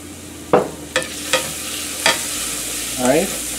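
Vegetables sauté in oil with a soft background sizzle, punctuated by four or five distinct clinks and scrapes of a utensil against the pan, close up and without speech.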